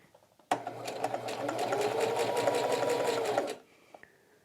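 A sewing machine runs in one steady, fairly loud burst of about three seconds while stitching a cowboy bedroll, starting abruptly and stopping cleanly, with a little household noise after it.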